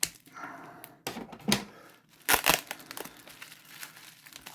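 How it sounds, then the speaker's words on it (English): Sticky tape cut with scissors and torn away from a packaged trading card lot, a run of sharp crinkling, snipping and cracking bursts close by, irregular and with no talk. "Get the scissors out to cut that stick tape."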